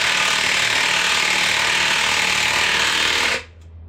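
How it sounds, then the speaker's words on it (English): Ball joints are pressed into the spindle of a Honda CR-V RD1 with a power-driven press tool, making a loud, close, continuous rapid hammering rattle for a few seconds before it cuts off abruptly. "I'm gonna go grab my tool. I'm gonna press in the ball joints right now."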